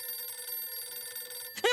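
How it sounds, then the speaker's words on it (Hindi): A telephone rings in a home, a steady electronic bell tone holding for over a second before it is cut off and a voice starts to speak. "ये उनका ही फोन है। फोन आ गया।"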